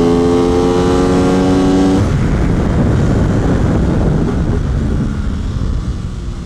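Loud, high-revving Aprilia RS660 engine whine climbing in pitch on a race track, then cutting to a roaring rush of wind and engine noise as the motorcycle speeds on.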